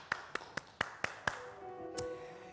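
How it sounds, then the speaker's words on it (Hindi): A few separate claps from a studio audience on a Pakistani TV chat show, about six sharp strikes spaced roughly evenly, then a faint tone after them. The sound is quiet and sparse, not full applause. "तालियां बजा दीजिए।"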